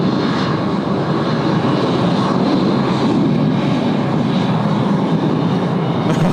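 A Jetstar Airbus A321 jet takes off from Sydney Airport, bound for Adelaide. The engines roar loudly and steadily throughout, with no talk.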